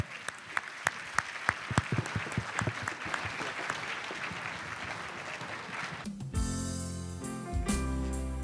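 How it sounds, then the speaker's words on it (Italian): Theatre audience applauding at the Teatro Toniolo song festival, a steady broadband clatter of many hands with a few sharper claps, running about six seconds before music begins and covers it. "Eccoli qua, un grande applauso!"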